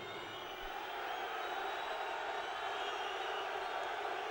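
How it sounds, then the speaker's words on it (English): A darts crowd at a pairs match cheers a player with a steady, dense roar of voices and whoops, distant and continuous throughout. "Crowd trying to cheer him off."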